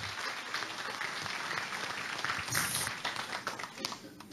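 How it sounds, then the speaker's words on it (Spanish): An audience at a congress on women's political participation applauds steadily, a moderate, fairly distant wash of clapping that holds for the whole few seconds with little else heard. "Un aplauso por este congreso"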